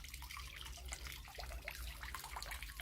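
Well water from a drilled pump about 40 meters deep overflows and splashes steadily, a continuous close gush with burbling and dripping over a low rumble.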